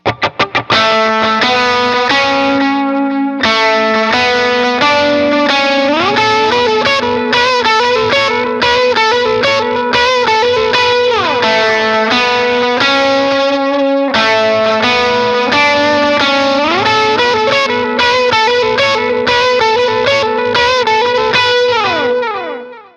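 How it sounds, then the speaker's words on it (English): A Shelton TimeFlite GTX electric guitar is played through an Agape Tribute 18-watt head. It rings out with distorted, effect-laden chords and melodic runs in a continuous loud passage, with no talking. "We're going to play this thing through a Agape Tribute 18-watt head amp"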